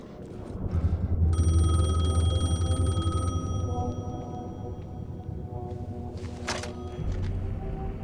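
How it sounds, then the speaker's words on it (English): A payphone ringing in the video game Alan Wake 2, a loud metallic bell trilling steadily for a few seconds over a low ambient hum, then cutting off into quieter room tone. "The payphone was ringing."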